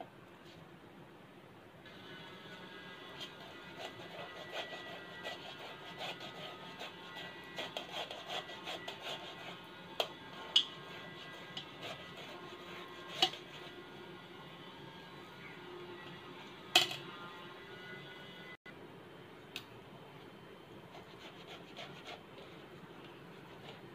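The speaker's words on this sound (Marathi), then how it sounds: "अशा पद्धतीने किसणीवर सगळे बटाटे किसून घ्या" Raw potatoes are grated by hand on a metal grater, quiet rhythmic rasping strokes repeating close by, with a few sharper scrapes and taps between them.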